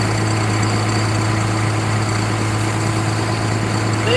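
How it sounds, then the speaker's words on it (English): A farm tractor engine runs loud and close, holding a steady low drone with constant vibration and no clear rise in speed. "Rev my tractor up a little bit and then back into position."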